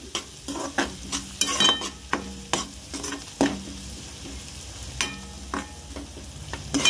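Chicken curry ingredients fry lightly in a pan, with a continuous low sizzle and repeated scraping and tapping strokes of a stirring spoon, no one talking.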